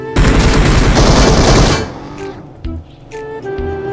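Rapid automatic gunfire in a video game, a loud dense burst lasting under two seconds, then quieter clanks and game sounds.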